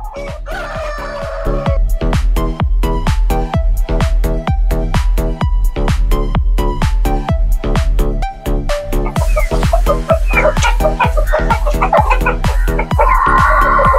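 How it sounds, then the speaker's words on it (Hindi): An Aseel rooster crows and clucks loudly and up close, with repeated calls over a steady rhythmic pulsing background. "ये वाला मुर्गा आप देख सकते हैं, बहुत ही जो है ना अग्रेसिव है"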